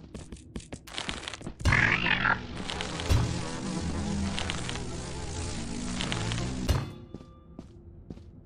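Bees in Lethal Company buzz in a dense, close swarm for several seconds, broken by sharp thuds and scrapes before the drone cuts off abruptly.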